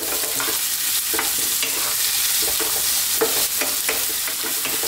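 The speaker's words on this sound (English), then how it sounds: "Let's throw these around in the pan for about 3 minutes." Garlic and ginger fry and are stirred in a pan over lively high heat for a chana masala, with a steady close sizzle and repeated scrape-and-toss stirring strokes, and no voices.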